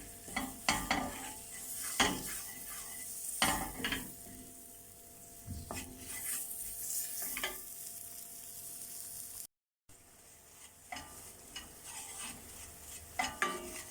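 Flour for béchamel sauce is toasted in a pan as a utensil stirs and scrapes in bursts over a soft sizzle, close and without talk, with one brief gap of silence.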